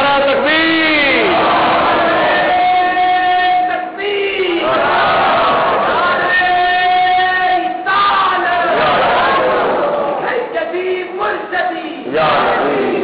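A large religious gathering roars back in unison after a Nara-e-Takbeer call, a loud, sustained collective shout that rises in waves with brief dips, and a chanting voice leads the crowd between responses.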